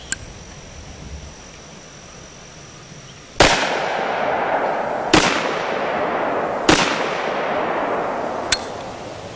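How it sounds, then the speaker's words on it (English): A handgun is fired four times at roughly two-second intervals. Each loud, sharp crack is followed by a ringing tail, and the last report is briefer and thinner. "let's shoot the gun a couple or 3 times and let you see what it looks like and recoil in my hand."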